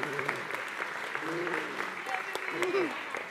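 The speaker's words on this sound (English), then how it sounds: "So how about you give him a big clap?" A church congregation gives a child a clap during a morning service, soft, scattered clapping with voices and children's sounds mixed in.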